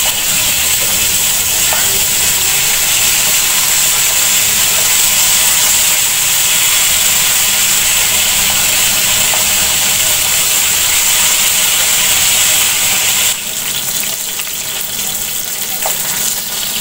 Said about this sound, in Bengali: আমার তেল গরম হয়ে গেছে, এখন আমি এক এক করে মাছ দিয়ে দিব।